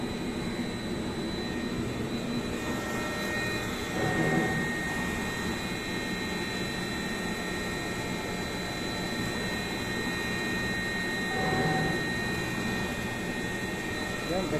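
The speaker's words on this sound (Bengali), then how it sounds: "নাও মেশিন এখন দেখেন মেশিন রানিং হচ্ছে।" A slide cutter machine runs with a steady, loud mechanical drone and whine, swelling briefly twice along the way.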